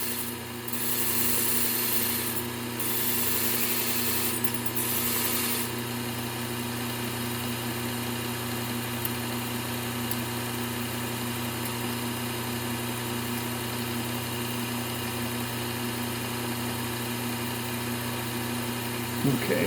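A bench sharpening wheel grinds the edge of a Chicago Cutlery kitchen knife, a steady, close motor hum with a constant tone, brief hissy grinding bursts early on, then an even drone.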